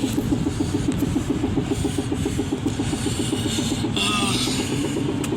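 Worn brake pads grind against a car's wheel rim in a fast, rhythmic scraping that repeats with each turn of the wheel. It is loud and close, mixed with engine and road noise, and no one speaks.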